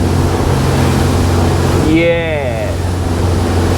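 Engine of a 2008 Nimbus 402 Nova motorboat, a loud, steady droning hum underway with water rush, while a voice briefly speaks midway.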